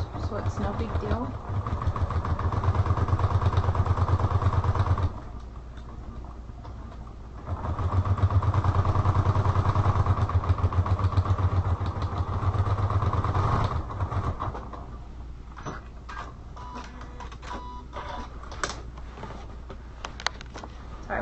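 A sewing machine back-stitching a spiral notebook cover runs in two long, steady humming bursts of several seconds each, with quieter pauses between, and a voice talks in the gaps.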